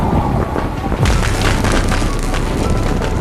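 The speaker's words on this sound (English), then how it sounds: "The dungeon exploded." A dramatized underground dungeon explosion, a loud deep boom around the one-second mark followed by a dense crackling, splintering rumble that fills the rest.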